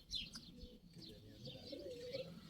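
A young tumbler pigeon gives soft, faint cooing and chirping calls, several short notes scattered across a quiet background, heard from some distance.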